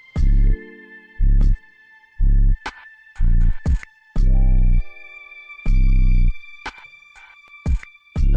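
A music track plays with heavily distorted tones in loud, buzzing bursts separated by near-silent gaps, harsh and overdriven, with no talking.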